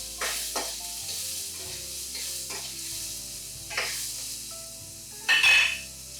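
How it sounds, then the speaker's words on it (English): Onions and garlic sweating in a hot pan for fresh pasta sauce, a steady bright sizzle with occasional stirring clatter and a louder burst of hissing near the end, close up. "Sweat down your onions and your garlic."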